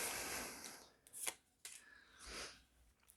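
A deck of tarot cards is shuffled close by in a few quick, papery riffling bursts separated by short pauses, quiet and with no voices.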